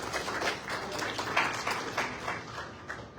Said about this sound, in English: please have a big clap for Momin